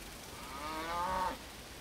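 A single cow on a desert farm lets out one drawn-out moo that swells and then cuts off, heard clearly at moderate distance over quiet background.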